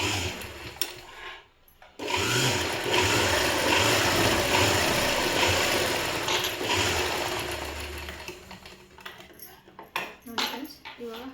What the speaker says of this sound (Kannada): ನಾನು 1 ಇಂಚಿಗೆ ಇನ್ನೊಂದು ಸ್ಟಿಚ್ ಹಾಕ್ಕೊತಾ ಇದ್ದೀನಿ.